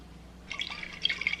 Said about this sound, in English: Come in with the rest of the sauce.